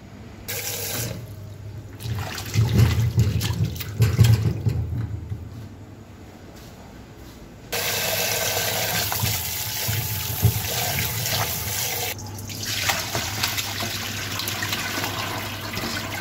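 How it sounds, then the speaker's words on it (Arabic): Tap water runs over chicken wings being washed with salt in a sink, a steady splashing flow that swells and changes as hands move the wings, with brief pauses and louder gushes. "رح نغسلهم بالماء والملح"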